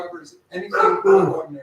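A dog barks in the background with a few yips and whimpery barks, close and fairly loud, overlapping a man's speech.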